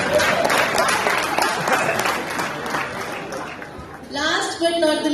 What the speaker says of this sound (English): Please let's give a big round of applause to Rio.